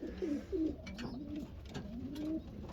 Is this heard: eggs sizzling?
no